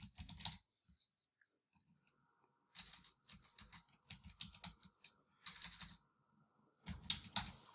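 Quiet clicking keystrokes on a computer keyboard while entering a formula into a spreadsheet, coming in short irregular bursts with pauses between them, close and soft.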